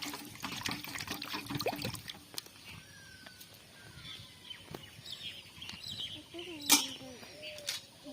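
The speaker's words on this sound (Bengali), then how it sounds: "আমগুলো ধুয়ে নিচ্ছি ভালো করে" Raw mangoes are washed under running water that trickles and splashes softly and intermittently, with a few sharper knocks and faint background bird calls.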